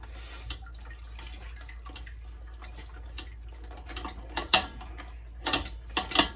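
An electric tomato press grinds and whirs steadily while processing tomatoes, with wet squelching and sharper mechanical clacks growing louder toward the end, close by and without any talking.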